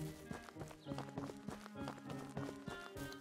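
Horse hooves clip-clop at a quick, regular pace in a farming and fantasy video game, the rhythmic clopping close and clear over a faint backdrop of game music tones.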